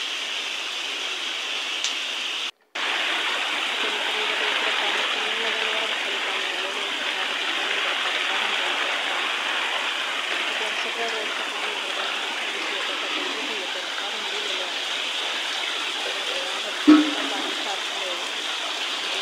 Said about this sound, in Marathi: आज तर भरपूर पाऊस झाला